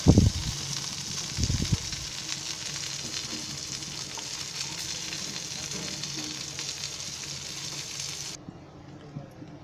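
Tuna pieces sizzle steadily in hot oil over a low gas flame, with a couple of sharp clatters as fish is set into the pan at the start, then an even close-up frying hiss.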